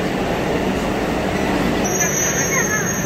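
A metro train pulls into a Kolkata-style underground station, a continuous rumbling roar with a high squealing whine appearing partway through, and people talk over it.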